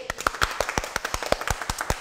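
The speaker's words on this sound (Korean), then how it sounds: "박수!" A small group of people clap at the start of a studio talk show with kids' model mothers, a dozen or so sharp, fairly close claps in a loose quick rhythm.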